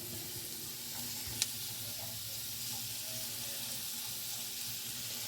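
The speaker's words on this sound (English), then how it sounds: "We're browning our sausage for just a little bit, letting it cook" Sausage browns in a big noisy soup pot, a steady close sizzle and crackle of frying meat with one sharp clink partway through.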